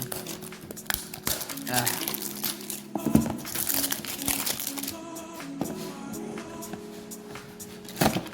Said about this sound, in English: let's bring back the cutter and let's cut it out